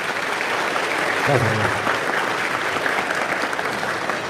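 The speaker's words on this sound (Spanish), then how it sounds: "Aplauso para el hermano Eduardo." A church congregation breaks into applause, a broad steady patter of many hands clapping that runs throughout, with someone briefly speaking over it.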